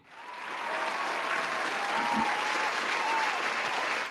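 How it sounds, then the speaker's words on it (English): Steady applause from a crowd fills the whole stretch, dense and even, with a faint voice or two underneath. "Round of applause for football."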